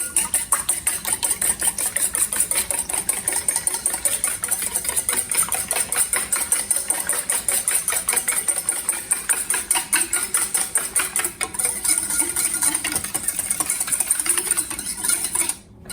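Pancake batter whisked in a bowl for scallion pancakes with summer vegetables, a fast, steady rhythmic clicking and scraping of the whisk against the bowl, loud and close, running continuously without speech.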